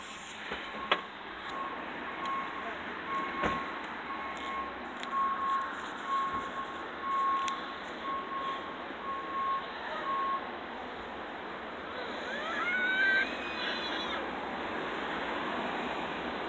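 A transport truck maneuvers back and forth nearby with a faint, steady reversing beep sounding repeatedly over wind and outdoor background noise.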